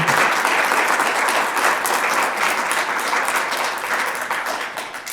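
Sustained audience applause follows a poetry reading, a dense wash of many hands clapping at steady volume that eases off slightly near the end.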